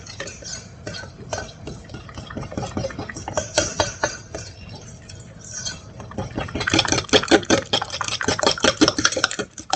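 A spoon stirs peach batter pudding batter in a bowl until smooth, giving a close, rhythmic run of scraping and tapping strokes that grows faster and louder toward the end.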